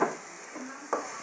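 Curry with added broth sizzles softly in a pan while being stirred, with a few brief scraping strokes over a quiet, steady sizzle.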